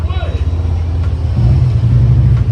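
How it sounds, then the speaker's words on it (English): Loud motorbike engine rumbling and revving nearby during a late-night drive, a deep throbbing growl that swells partway through, with people talking over it. "we got this loud ass bike in the back"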